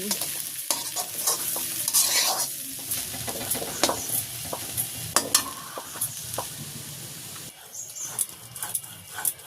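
Onion shoots (peyaj koli) sizzle and fry in a pan in a village kitchen, with a utensil scraping and stirring through them in repeated close strokes over a steady crackle.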